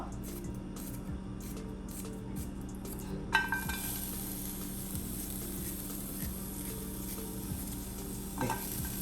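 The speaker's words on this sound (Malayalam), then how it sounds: "ആദ്യം എണ്ണയൊന്നും ഒഴിക്കാതെ ഈ ഉള്ളി ഒന്ന് നമ്മളിങ്ങനെ വാട്ടിയെടുക്കും" Small chopped onions sauté in a dry pan without oil, with a faint crackle, then a clank of the utensil followed by a louder steady hiss and quiet stirring scrapes.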